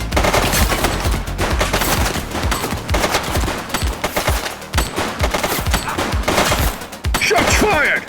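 Dense automatic gunfire fills a police shootout in a video game, rapid bursts of shots running almost continuously, loud and close, with a brief lull near the end before the firing resumes.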